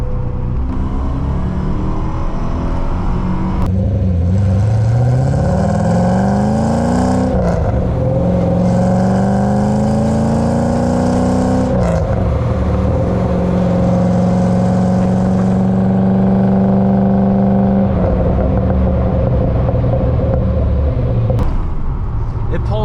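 A 1978 Porsche 928 with a dogleg manual gearbox is heard from inside the car, its engine revving loudly through the gears toward the red line in long rising pulls broken by shifts, with someone talking over it.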